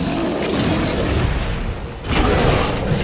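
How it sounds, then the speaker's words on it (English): Grenade blasts in the horror game Resident Evil Village, a dense low rumbling boom sustained across the moment with a brief dip, then a second heavy burst swelling back up loud and close. "Let's give you a few grenades to start"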